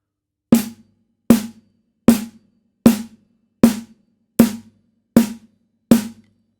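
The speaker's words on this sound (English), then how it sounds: "This time we're going to play our snare with our hi-hat on the beat" Eight evenly spaced drum hits play at a steady tempo, each a snare struck together with a hi-hat, ringing briefly before the next.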